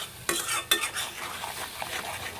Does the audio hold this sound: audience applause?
no